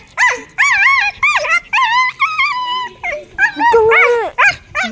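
Milo, a pet dog, gives a close, loud run of high-pitched yips, whiny barks and pleading whimpers in quick, uneven bursts, vocalizing almost nonstop.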